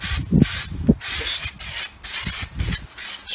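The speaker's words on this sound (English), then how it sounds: "Just spray the whole thing, camera, spray the whole thing with brake cleaner." Brake cleaner sprayed from an aerosol can onto a Tamiya 1/16 RC Sherman model tank: about six short, loud hissing bursts with brief gaps, close to the microphone.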